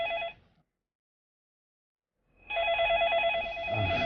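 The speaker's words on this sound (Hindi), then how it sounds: "मेरा फोन आया मेरा" A telephone rings in an indoor setting, a close electronic ring tone that sounds briefly, cuts to silence for about two seconds, then rings again steadily until the clip ends.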